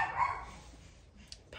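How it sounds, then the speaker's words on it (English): A dog barks once or twice indoors during rain, faint and somewhat distant, followed by quiet room tone and a small click. "apparently the dog doesn't like the rain."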